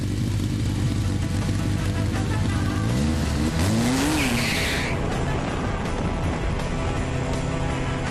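A race car laps a track at speed, its engine droning loud and steady throughout, with revving gear shifts and a tire squeal through a bend near the middle.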